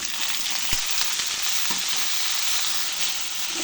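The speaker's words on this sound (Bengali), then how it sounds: "আলুতে সামান্য নুন দিয়ে আলুটাই ভেজে নিচ্ছি।" Potatoes with a little salt frying in hot oil in a wok, a steady, dense sizzle with a few faint stirring knocks, close and continuous throughout.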